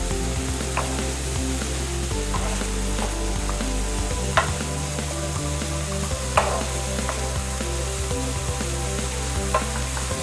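Bakmi goreng noodles with green vegetables and scrambled egg being stir-fried in a wok, a steady loud sizzle with repeated scraping and clinking of the spatula against the pan, and no talking.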